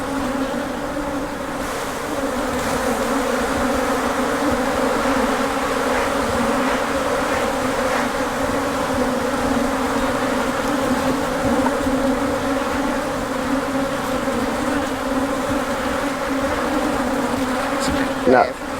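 Honey bees swarming around an open hive during an inspection, a dense, continuous, loud buzzing hum that holds steady throughout, with no clear voices over it.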